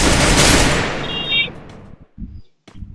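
Heavy burst of gunfire from the Free Fire battle royale game, a loud dense volley that fades over about two seconds, followed by a few scattered single shots.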